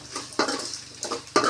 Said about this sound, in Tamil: நல்லா பாவக்காயை போட்டு நல்லா வணக்கிக்கணும்